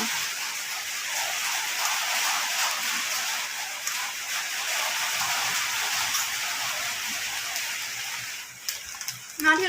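Heavy rain pouring outside, a dense steady hiss that fills the whole stretch, with faint clatter and a brief rustle near the end.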